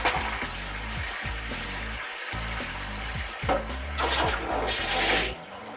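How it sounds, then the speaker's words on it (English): Water drains from a Japanese toilet after plunging, gurgling and rushing steadily with a hissing, bubbling wash that swells near the end and then drops away. "Now that water's going down"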